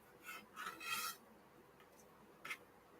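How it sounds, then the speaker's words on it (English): A knife chops cucumber pieces on a board for a spicy jicama salad, a few quiet close cutting and scraping bursts bunched near the start, then one more short chop after a pause. "Okay, so I am just chopping these up a little bit, tossing them back in."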